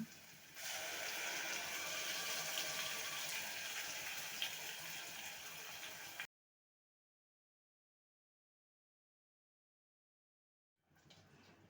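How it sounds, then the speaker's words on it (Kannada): Water left from boiling greens and green gram pours steadily into a pan for several seconds, a hissing rush that stops abruptly, followed by silence and then a faint return of sound. "ಸೊಪ್ಪು ಮತ್ತು ಹೆಸರು ಕಾಳು ಬಸ್ತಿದ್ನಲ್ಲ ಆ ನೀರು ಹಾಕೊಳ್ತಾ ಇದ್ದೀನಿ"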